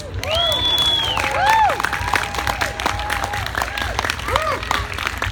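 An audience at a gunslinging exhibition claps and cheers steadily throughout, with whistles and scattered shouts rising over the dense applause.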